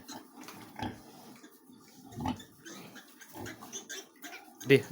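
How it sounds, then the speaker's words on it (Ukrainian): Small piglets squeal and grunt in short, scrappy bursts close by as they fight over one teat, with sharper shrieks now and then amid quiet rustling. "Оце дві свинки, от і постійно б'ються за одну цицьку."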